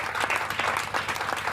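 A church congregation applauding during a Thursday evening sermon, steady clapping from many hands throughout with a few louder bursts.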